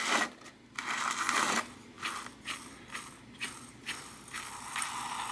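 A sticky bicycle freewheel being flushed with spray lubricant and turned by hand, its pawls giving a close ratcheting click in short repeated bursts with brief pauses between.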